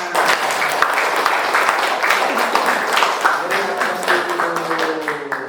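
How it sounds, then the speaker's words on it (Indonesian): Students clap together in a classroom after a physics lesson on uniformly accelerated motion, a quick scattered patter of hands with voices talking over the applause. "Oke, tepuk tangan."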